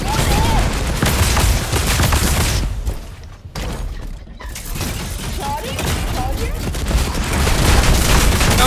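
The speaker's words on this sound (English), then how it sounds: "Fire those missiles" A mech fires a missile barrage in Fortnite, producing dense rapid bursts of explosive fire and crackling impacts that drop away briefly, then surge back loud, with voices shouting over the din.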